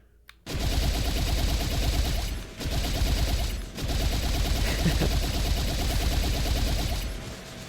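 A rotary, spinning-barrel weapon from the Pixel Gun 3D pack fired in the VR shooter H3VR, with loud, rapid continuous bursts in three long strings separated by brief pauses and a mechanical click at the start.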